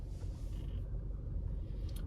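Car pulling forward out of a parallel parking spot, a low steady engine rumble heard close and continuous with no other sounds.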